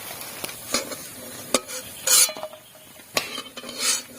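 Sago fritters (sabur bora) fry in hot oil while a metal utensil stirs and clinks against the pan. Uneven bursts of sizzle rise and fall between sharp, close clanks.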